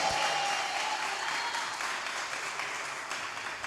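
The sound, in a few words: applause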